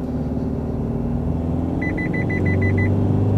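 Inside an Isuzu MU-X, the engine drones as the SUV accelerates from 50 to 100 km/h, a steady loud rumble that deepens and grows near the end, with a short run of repeated beeps partway through.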